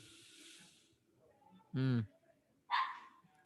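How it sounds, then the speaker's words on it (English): A dog barks twice nearby, a loud harmonic yelp followed by a second, sharper bark, with faint background talk and running water before them. "You hear that dog?"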